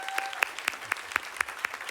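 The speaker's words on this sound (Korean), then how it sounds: "우리 수고하셨다고 박수 한번 쳐드릴까요?" Rhythmic clapping at a steady beat, about eight distinct claps in two seconds, with a diffuse applause wash behind them from a church college group conference audience.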